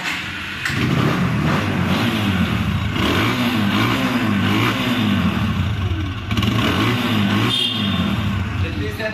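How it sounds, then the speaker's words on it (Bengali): A second-hand Apache RTR 160cc 2V motorcycle engine runs close by, a continuous deep, throbbing idle with rhythmic clattering pulses and brief throttle rises throughout. "ইঞ্জিন সাউন্ড গুলো ফার্স্ট ক্লাস, ডিপের সাউন্ড।"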